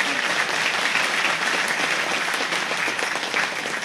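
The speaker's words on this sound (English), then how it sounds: "So again, a round of applause for all the work that Alan Vera" A room at a Harris County Republican Party executive committee meeting breaks into a sustained round of applause, dense steady clapping from many hands that holds at an even level throughout.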